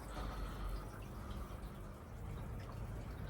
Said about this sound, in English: I started by adding my aquarium wonder juice.